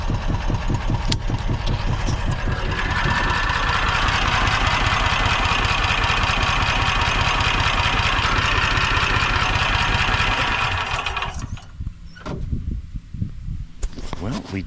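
The engine of a Toro Workman utility vehicle runs loud and close with a rough, knocking idle, chugging steadily for about eleven seconds before cutting out, followed by scattered clunks and handling noise.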